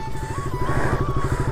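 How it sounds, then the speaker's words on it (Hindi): A motorbike rides off-road with a loud, close, rapidly pulsing engine putter and a rising whine, running continuously throughout. "मैं थोड़ा ऑफ रोडिंग करके देखता हूँ चलते कि नहीं इधर बाइक"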